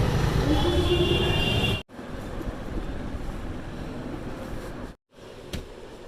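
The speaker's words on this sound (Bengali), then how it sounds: "হাওয়া দিচ্ছে" Wind blowing outdoors on a sunny market street, a steady, gusty rumble buffeting the microphone close up, with two brief dropouts.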